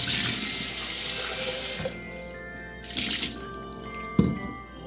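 Utensils rinsed under a running kitchen tap into a sink while making ginger beer, a steady close stream of water for nearly two seconds, then softer intermittent splashes and brief clinks as items are moved under the flow.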